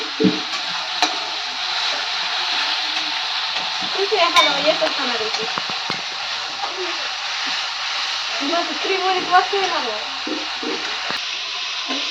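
Coconut masala paste is stirred in a frying pan, giving a steady sizzle with intermittent scraping and stirring strokes, while someone talks over it.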